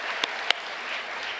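Faint, thin applause from a church retreat audience for a fan-dance performer, a soft patter with two sharp claps standing out over a low room hiss.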